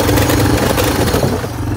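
An old agricultural motorbike with something caught in its back wheel, giving a loud, steady rattling clatter over low engine rumble throughout, close to the listener.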